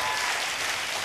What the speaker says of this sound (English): Please, let's give him a nice round of applause.